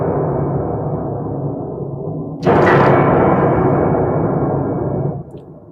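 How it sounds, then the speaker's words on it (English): Upright piano strings ring with the damper pedal held and dampers lifted, a dense sustained wash that swells suddenly partway through into a brighter, fuller roar, then drops back as it fades, close and loud with no talking. "If you hit the damper pedal and lift the dampers,"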